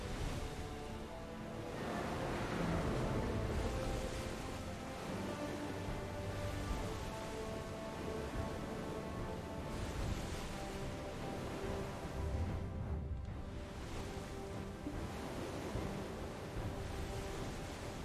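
Big boat sailing across ocean waves in the MMO Black Desert Online, a steady broadband wash of surf and wind that rolls on continuously for the whole stretch with slow swells, moderately loud and without talk.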